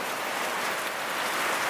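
Heavy rain pours down steadily outdoors in flooded Davao Province, a dense, even hiss of falling water that continues unbroken and fairly loud, with no voices.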